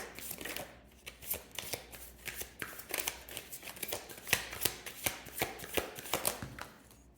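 Tarot cards are shuffled by hand in quick, rhythmic riffling bursts, each a crisp papery snap, repeating steadily and close up with no talking.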